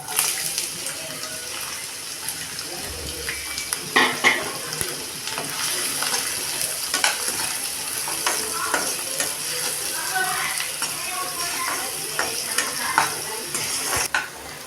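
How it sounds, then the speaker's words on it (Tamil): Onions fry in a hot kadai for dhaba-style chicken gravy. A steady close sizzle runs throughout, with stirring scrapes and occasional clinks of a spoon against the pan, and no voices. "இப்போ வெங்காயம் நல்லா பொன்னிறமாக விதகிடுச்சு"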